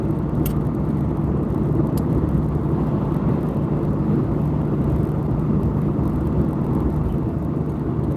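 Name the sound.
car driving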